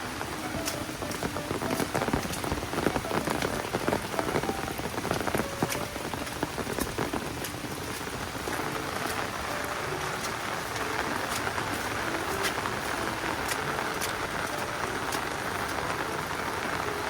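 Heavy rain from Typhoon Egay pours down steadily, a dense hiss of drops pattering on surfaces with scattered sharper hits, continuous and fairly close for the whole stretch.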